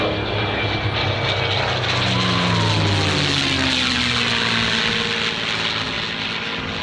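A P-51 Mustang's propeller-driven piston engine drones loud and steady throughout, with a slowly shifting pitch as the aircraft passes.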